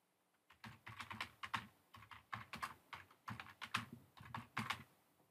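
Fast, irregular typing on a computer keyboard, close and clear, with bursts of keystrokes separated by short pauses, no voices.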